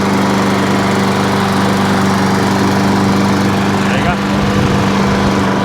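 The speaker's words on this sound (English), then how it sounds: "that's the Hayter 48 now all up and running with brand new belt" A Hayter 48 lawn mower fitted with a brand new drive belt runs loud and close with a steady, droning engine hum, and a brief spoken remark is heard over it.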